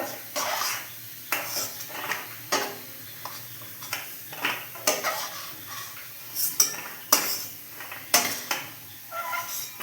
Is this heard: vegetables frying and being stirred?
yes